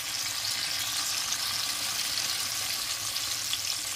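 Eggplant pieces sizzle and crackle steadily in a pan, a soft continuous frying hiss heard alone at close range.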